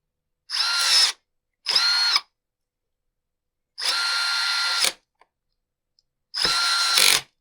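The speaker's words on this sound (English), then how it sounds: "Once we get it all lined up, run the screws in." A power drill driving screws into a Poulan Pro leaf blower that keeps flooding, with four loud, close bursts of whirring, each about half a second to a second long, separated by silence.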